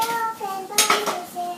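A kitchen cooker lid is shut while pots and utensils clatter, giving close, loud metallic clanks with ringing tones, then a sharp burst of clattering in the middle of the brief moment.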